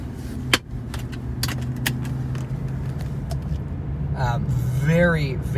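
A Toyota Crown Majesta V8 pulls out onto the road, a low, smooth engine hum heard from inside the cabin, with a sharp click near the start and people talking over it toward the end.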